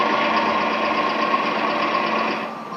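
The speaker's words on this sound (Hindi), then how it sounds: "एक ट्रैक्टर, उसमें अपने आप लगता है गियर, अपने आप एक्सीलेटर बढ़ता है, आवाज तेज और तेज होती जाती है" A driverless tractor running in an empty field, its engine droning steadily with a buzzing mechanical hum and fading slightly at the end.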